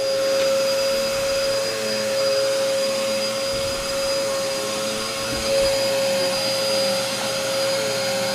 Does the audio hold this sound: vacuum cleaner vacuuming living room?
yes